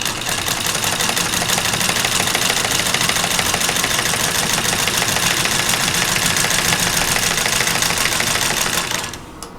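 An older, quieter sewing machine stitches along a drawn line on a quilt block, running in a fast, even mechanical rattle close by and then stopping just before the end.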